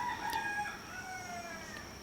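A rooster crows once, a drawn-out cock-a-doodle-doo that trails off, heard clearly at moderate distance in a quiet outdoor setting.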